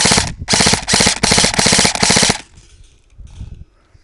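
Saigo M4 Kenji Short airsoft rifle firing rapid bursts of test shots, a loud, fast mechanical rattle for about two seconds with brief gaps, then quieter handling noises.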